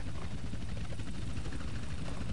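An aircraft passing overhead in GTA San Andreas, a continuous dense engine roar with a rhythmic, rotor-like thrum, loud and steady throughout.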